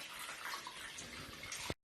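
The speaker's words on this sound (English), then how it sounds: "We're now going to pour it through the sieve so that all the bits come out" Homemade ginger wine poured through a sieve, a steady quiet splashing trickle of liquid that stops abruptly at the end.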